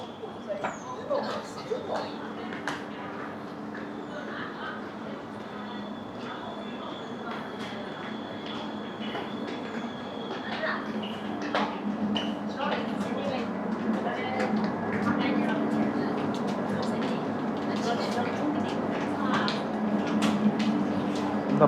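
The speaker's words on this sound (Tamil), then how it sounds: "இது ஒரு எம்ஆர்டி ஸ்டேஷன்." Station ambience in a Shanghai MRT metro station: a steady crowd murmur and low mechanical hum, with scattered clacks and footsteps and a faint high tone, growing slightly louder toward the end; people talk indistinctly in the background.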